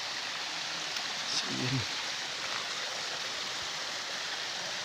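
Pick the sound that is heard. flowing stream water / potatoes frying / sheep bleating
flowing stream water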